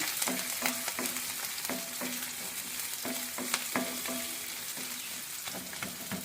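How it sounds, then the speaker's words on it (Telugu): Onions frying in a pan for ragi rava upma, stirred as they brown, with a constant close sizzle under regular, rhythmic scrapes of the spatula roughly every half second, with no talking. "పాన్ పెట్టుకొని ఆనియన్ వేసుదాము ఆనియన్ కొంచెం లైట్ బ్రౌన్ కలర్ వచ్చే వరకు ఇలాగా కలియ పెడుతూ ఉందాము"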